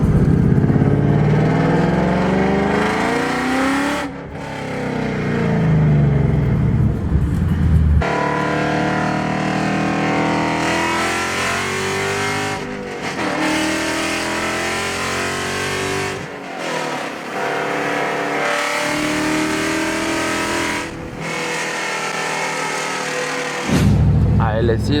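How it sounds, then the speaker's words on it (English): Corvette C7 Z51 engine revving loud and close as it downshifts, with rising and falling engine pitch sweeps and brief gaps between gear changes, a voice talking over part of it. "I'm gonna downshift right now and see what it sounds like"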